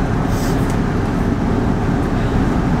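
A wrecked 7.3 Powerstroke diesel truck cruises at about 70 mph, a loud steady drone of engine and road noise heard from inside the cab.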